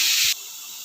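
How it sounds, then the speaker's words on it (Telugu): Bottle gourd pieces cooking in a pot over a medium flame give a loud, bright steamy hiss that cuts off abruptly after a moment, leaving a quieter, steady background hiss. "ఇలా కొంచెంసేపు మీడియం ఫ్లేమ్లో మగ్గించుకోవాలండి సొరకాయ ముక్కల్ని."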